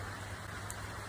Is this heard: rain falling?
yes